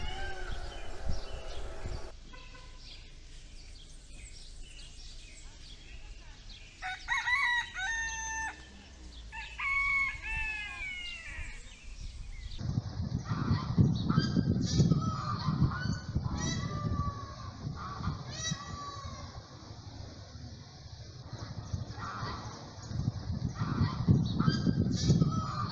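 Free-roaming chickens and geese on the lawn of Parc de France in Joinville, Santa Catarina, Brazil: clucks and a rooster's crow give way to loud, overlapping goose honking against a busy outdoor background, with no talking.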